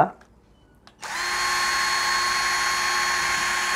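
A Mollar 12-volt cordless drill spins up from silence at its second speed setting, then holds a loud, steady motor whine close by.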